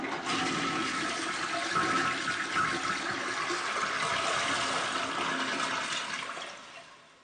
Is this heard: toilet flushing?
yes